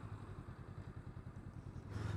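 A Honda CMX500 Rebel motorcycle chuffs along quietly, its engine giving a soft, even pulse with a faint thrum that swells slightly at the end.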